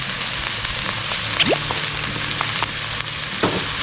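Kale and crispy pork stir-fry in a hot pan with oyster sauce, a loud, constant sizzle broken by scraping strokes of the spatula, close up with no talking.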